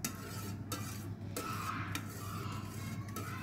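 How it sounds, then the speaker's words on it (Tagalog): A spoon stirring yeast into milk in a bowl for homemade pizza dough, soft scraping and rubbing strokes repeating steadily, close and fairly quiet with faint clinks against the container. "Halo natin dito siya sa milk"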